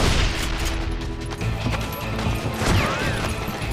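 Dense gunfire in a Wild West shooter set in Lincoln, with overlapping shots and rattling mechanical clatter running steadily throughout, loud and busy with no clear pauses.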